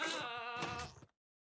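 A screaming goat in Minecraft lets out one loud, strained, wavering bleat that sounds almost like a yell, close and clear, then cuts off to silence.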